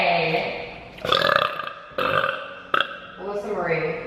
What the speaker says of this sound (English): Can you stop burping?